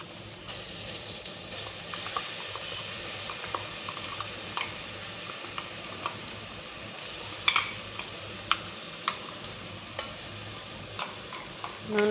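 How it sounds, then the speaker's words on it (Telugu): Ground coriander and mint paste sizzles steadily in hot oil, a continuous frying hiss with occasional sharp pops and crackles throughout. "కొత్తిమీర పుదీనా ఇవి మొత్తం మిక్సీ పట్టుకున్నాం కదా,"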